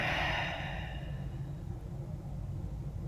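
A deep, slow exhale during a guided group breathing exercise, heard as a breathy rush of air that fades out over about a second, over a low, steady background rumble.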